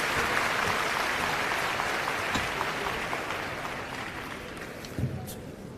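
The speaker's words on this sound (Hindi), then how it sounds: "आप सभी की तालियों की गड़गड़ाहट के साथ उनका स्वागत करेंगे।" An audience at an environment conference applauds to welcome a forestry official to the stage, a steady wash of clapping that holds for several seconds before slowly thinning out.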